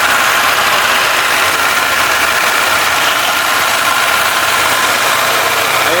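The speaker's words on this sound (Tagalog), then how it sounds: "Umandar yung ating makina." A machine's engine runs steadily at idle for the whole stretch, a loud, continuous mechanical drone with constant vibration and no voices.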